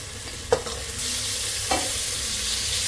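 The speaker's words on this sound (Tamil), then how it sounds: "இஞ்சி பூண்டோடு சேர்த்து கிளறிக்குது" Tomatoes stirred and frying with ginger garlic paste and green chillies in a pressure cooker for masala dal khichdi, two distinct scrapes of a spoon over a steady close sizzle that swells after the first second.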